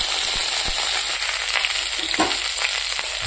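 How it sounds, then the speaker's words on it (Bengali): Potatoes and cauliflower fry in a pan with a steady, close sizzle and crackle, some stirring noises, and no talking. "তো আলু আর ফুলকপিটাকে ভেজে নিই।"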